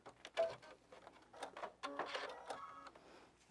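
A Brother sewing machine stitches a quilt seam, giving faint, quick mechanical whirring and clicking bursts that start and stop at close range.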